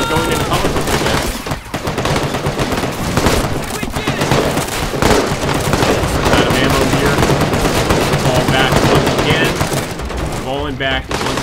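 Machine gun fire from a Vietnam War video game set at the Battle of Khe Sanh, Medal of Honor, with dense, continuous rattling bursts and booms under loud battle noise, and voices faintly mixed in.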